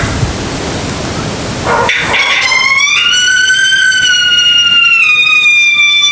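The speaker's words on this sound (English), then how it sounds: "Or a howl." Predator game call speaker playing a howl, a rising tonal wail that holds and slowly falls, loud and close, after a stretch of hissy static noise.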